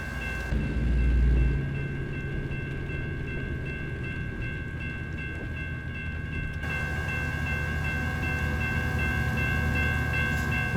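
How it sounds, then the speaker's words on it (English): A train rumbles past at night in American Truck Simulator while hauling a heavy load through Louisiana, a steady low roar with sustained horn-like tones that persist throughout, fairly loud and continuous with no talking. "Looks like there's a train coming."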